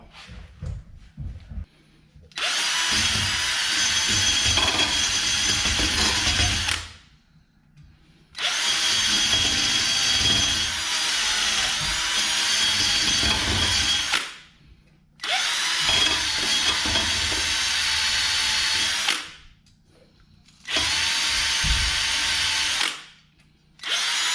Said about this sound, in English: get a little wire brush and just try to clean right around where the rotor meets the hub